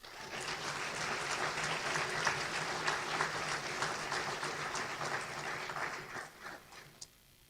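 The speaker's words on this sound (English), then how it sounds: "give yourself a round of applause" Audience applause at an awards ceremony: a full, sustained burst of many people clapping, loud and dense, then thinning out near the end with a few last scattered claps.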